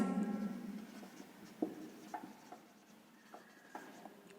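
Pen writing on paper during a class 10 maths lesson on linear equations, with scratchy strokes and soft taps in uneven bursts, close and fairly quiet, with no talk.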